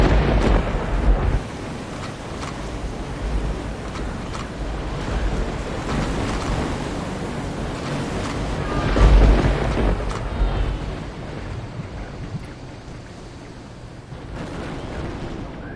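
Heavy naval gunfire booms in the Victory At Sea naval combat game, a dense rumbling barrage with a louder blast around the middle, continuous thundering roar throughout and no talk.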